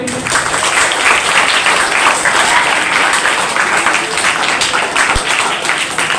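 A school debate competition audience claps for a speaker, a loud, even wash of hands filling the hall for several seconds with no break, a faint voice briefly audible beneath it.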